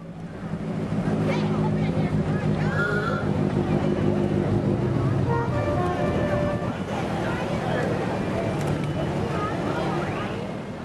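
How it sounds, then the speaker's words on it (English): A 1952 Citroën car passes in a small-town Fourth of July parade, its engine a moderate rumble amid crowd noise and chatter, swelling and fading as it goes by. "Here's another Citroën. It's a 1952 and it's owned by Linda Lewis."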